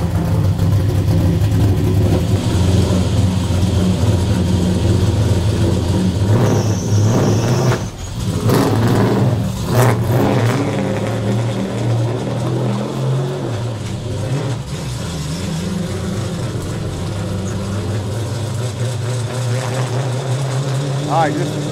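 Race car engine at a speedway, a loud steady rumbling idle near the listener with revs rising and falling, under talking voices for much of the time.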